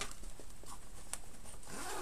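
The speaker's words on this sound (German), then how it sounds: "Von innen hier oben ist nochmal ein Reißverschluss" A zipper on a Suicide Squad Taskforce-X satchel bag is pulled open in a quiet, close, scratchy run of short ticking rasps, faint against soft room noise.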